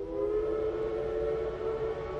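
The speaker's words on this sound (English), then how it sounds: "I don't know if you can hear it, but I hear the train" A Tweetsie Railroad train sounds a sustained whistle-like tone at a distance, one steady drawn-out blast holding for the whole stretch over faint background rumble.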